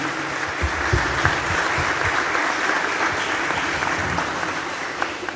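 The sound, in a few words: applause for children who sang the anthem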